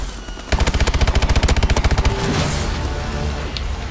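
Rapid automatic gunfire in the shooter game Call of Duty Advanced Warfare, a dense loud burst of about a second and a half, then fading into a lingering rumble with scattered smaller shots.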